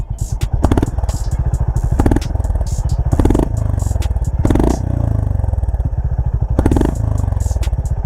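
Loud, close Honda H'ness CB350 motorcycle idle with a rapid, regular exhaust putter and a few clattery mechanical bursts.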